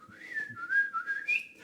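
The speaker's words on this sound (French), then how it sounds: "Quand on siffle, quand on sifflote" A person whistles a wandering tune, a clear pure tone sliding up and down in short phrases, close and alone with faint background noise.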